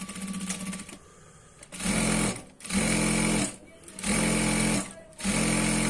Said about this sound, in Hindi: तो यहाँ पे हम इसकी भी आधा इंच की पूरी राउंड में सिलाई लगाएंगे।